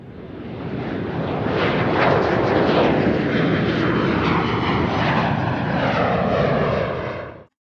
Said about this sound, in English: we've got our jet here